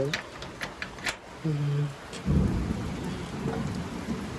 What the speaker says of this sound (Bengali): বৃষ্টি কিরকম হচ্ছে দেখো